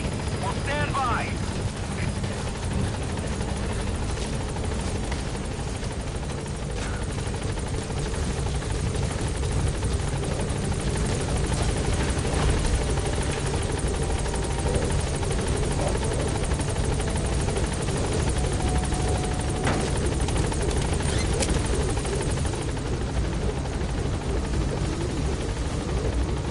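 A video game helicopter arrives and hovers at a landing zone, its rotor beating in a loud, continuous thrum throughout, with radio-style voices speaking over it.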